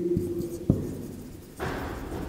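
A pen writing a handwritten accounting journal entry on paper, a few short close scratching strokes with brief pauses, then a longer continuous scribble, quiet and with no voices.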